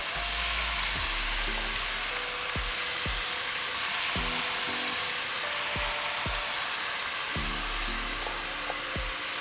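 Marinated soy-sauce beef bulgogi stir-fries with moisture-rich vegetables over medium-high heat, giving a steady, close sizzle and hiss broken by the scrape and clack of stirring, with background voice tones.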